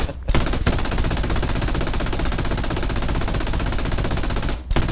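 A machine gun in War Thunder fires in one long, loud, unbroken burst after a couple of brief opening shots, cutting off just before the end.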